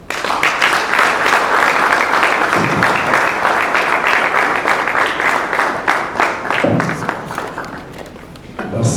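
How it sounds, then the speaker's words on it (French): Sustained applause from an audience at a press conference in Goma by the M23, dense steady clapping for about nine seconds that tapers slightly toward the end, with a few low thumps mixed in. "Si on peut encore applaudir, d'accord."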